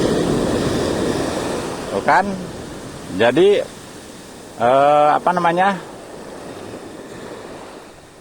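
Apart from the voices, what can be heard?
ocean waves on the beach at Legon Pari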